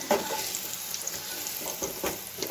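Potatoes frying in oil give a close, steady sizzle with repeated stirring scrapes every half second or so, no voices over it.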